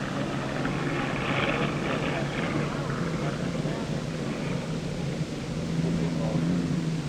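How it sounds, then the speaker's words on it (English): A continuous roaring engine drone from a hydroplane racing boat at the 1963 Diamond Cup race, steady and fairly loud, with faint commentary voices mixed underneath. "Boat noise in front of us right now is Bob Gilliam in F"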